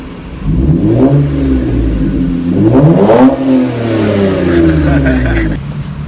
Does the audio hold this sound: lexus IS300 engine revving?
yes